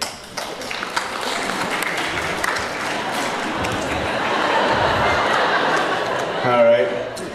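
Comedy club audience at a stand-up mental health comedy show breaking into sustained applause with scattered chuckles, a steady broadband roar of clapping and cheering that swells slightly toward the end.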